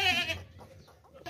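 A castrated male goat gives a loud, close bleat at the start, followed by quieter rustling and a short vocal sound at the end.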